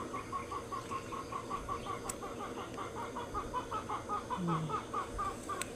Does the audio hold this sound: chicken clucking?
yes